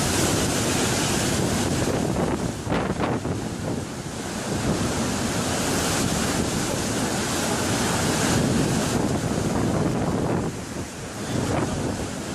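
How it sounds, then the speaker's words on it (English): Huge storm waves pound a ferry at sea on the crossing from Holyhead to Dublin, a loud, continuous roar of surf and wind buffeting the microphone, with heavier surges throughout and no voices. "Huge waves hit Stina,"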